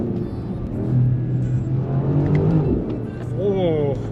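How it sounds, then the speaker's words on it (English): A 2025 BMW XM hybrid SUV pulls hard at full throttle in third gear on an icy road, its engine note climbing loud and close from inside the cabin, while a voice speaks excitedly over it. "Third gear pull, full throttle."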